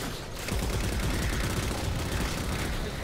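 Rapid gunfire in the video game Halo 4, a dense continuous fusillade of shots loud and close throughout, with no talk over it.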